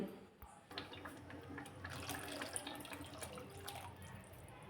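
Water pours into a thick chandan batwa vegetable bhaji as it cooks, giving a soft, continuous splashing wash at a moderate distance.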